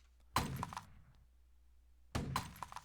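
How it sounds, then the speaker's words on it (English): Glass shatters as a cannon hits it in the HopDodge video game, two separate crashes about two seconds apart, each a sharp bright burst that quickly decays. "glass will break when cannons hit them"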